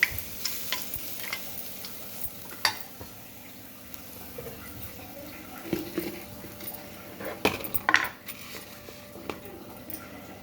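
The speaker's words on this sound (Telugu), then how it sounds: "ఇప్పుడు అంతా కలిపేసుకుంటే చిత్రాన్నం రెడీ అయిపోతుంది" Lemon rice (chitrannam) is stirred and mixed in a pan with soft scraping and occasional clinks of a utensil against the pan over a faint sizzle, close and fairly quiet, with no talking.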